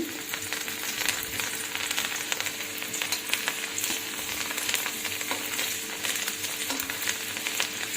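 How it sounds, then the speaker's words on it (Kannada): Split chickpeas crackle and sizzle steadily in hot oil in a pan over a low gas flame, a dense, even frying hiss running unbroken throughout with no voices. "ಈ ರೀತಿ ಕರಿತಾನೇ ಇರ್ಬೇಕು ಇನ್ನು ಯಾಕಂದ್ರೆ ಹಸಿ ಇರ್ತಾವೆ ಕೆಂಪಗಾಗೋ ತನಕ ಕರಿಬೇಕು"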